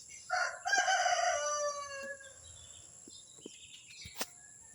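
A rooster crows once nearby at a small farm, with a long drawn-out call, followed by a few faint clucks and bird chirps against a quiet background.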